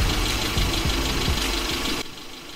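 A 500-horsepower engine runs with a loud, rough, knocking idle and rhythmic pulsing, then cuts off abruptly near the end, leaving a quieter rumble.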